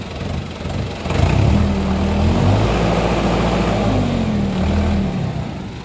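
A 2016 DI 60 RX tractor engine revs up with a loud, steady drone that rises and holds, its pitch wavering slightly over a rumbling idle, close and continuous.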